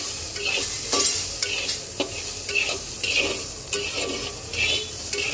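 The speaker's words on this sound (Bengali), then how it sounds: "এবার আমি সয়াবিনটাকে সুন্দর করে একটু হালকা ভেজে নেব।" Soybean chunks fry in hot oil with salt and turmeric, a steady loud sizzle with repeated scraping strokes of a spatula stirring through the pan, close and continuous, with no talking.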